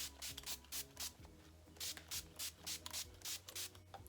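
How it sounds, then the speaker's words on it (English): NYX matte finish setting spray misted onto a face, heard as a rapid series of short, close hissing pumps in a steady rhythm, about a dozen bursts with no talking. "I'm gonna spray this on my face."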